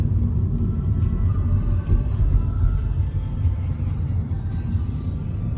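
Interior of a moving car on a downtown drive, a dense, steady low rumble of engine and road noise filling the cabin throughout, fairly loud and unbroken, with no voices.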